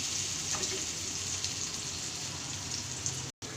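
Cabbage fritters in a rice-flour batter fry in a pan of oil, giving off a dense, continuous sizzling hiss close to the microphone with no voices.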